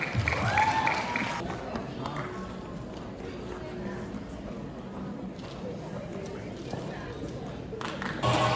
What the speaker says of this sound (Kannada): ಈಗ ದೊಡ್ಡ ಚಪ್ಪಾಳೆಯೊಂದಿಗೆ ಸ್ವಾಗತಿಸಿ